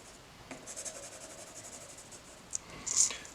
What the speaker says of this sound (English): I can push on my pencil a little bit harder